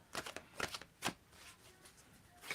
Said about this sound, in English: Tell me when to stop shuffling on this one.